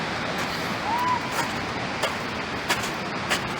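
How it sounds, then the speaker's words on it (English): A waterfall pouring into water at the bottom of a drop, heard while friends are out on a road trip: a steady, even rush of falling water fills the whole clip, with a few faint voices in the background. "look at all that water down at the bottom. Coming for the waterfall."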